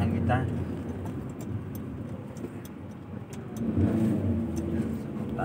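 A car climbs a steep uphill village road in Kaloran, Indonesia, its engine droning steadily and swelling near the end, with people talking over it throughout.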